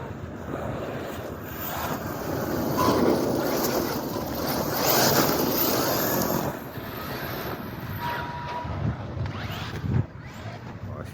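An Arrma Outcast EXB 8S RC car on Duratrax street tires, one tire coming unglued, drives in a steady loud wash of motor and tire roar mixed with wind noise, with a few sharper bursts near the end.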